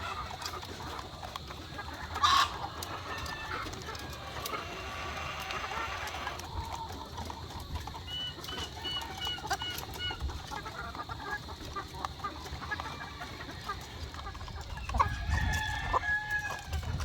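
Heritage pullets and other chickens on a farm, steady clucking with a few roosters crowing, some near and some farther off, over a busy background of farmyard noise.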